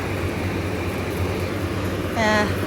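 A noisy hotel air conditioner running with a steady broadband hum and low drone throughout, near and constant, with a brief tonal sound near the end.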